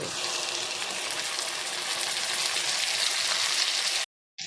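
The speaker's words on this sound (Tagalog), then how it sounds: "ilalagay na natin yung oyster" Oysters dropped into a pan of dairy cream and onion sizzle with a loud, steady frying hiss for about four seconds, then stop abruptly before a brief resumption.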